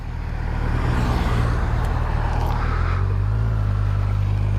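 A car passes on a country road in rural Victoria, its engine and tyre roar swelling up close and then fading, heard over the steady drone of a motorbike's engine and wind.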